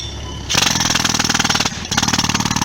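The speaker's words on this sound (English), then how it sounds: "who is making a lot of noise with a jackhammer?" A jackhammer breaks up the floor of a Menards home improvement store, starting abruptly after a moment of low rumble. It pounds loud and close in a rapid, steady hammering rhythm with one brief pause.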